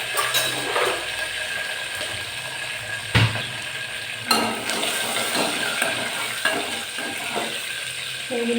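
Dried red chilies and curry leaves fry in hot oil, giving a dense, continuous crackling sizzle close by, broken by a few sharp clanks and scrapes of a utensil against the pan.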